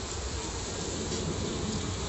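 Honeybees buzzing inside a top bar barrel hive, a faint, dense, continuous hum close by with no voices.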